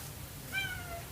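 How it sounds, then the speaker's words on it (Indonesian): A cat meows once, a short clear call in the middle of a steady low room hum, heard alone with no talking. "sorry kayak bakal ada suara kucing sedikit"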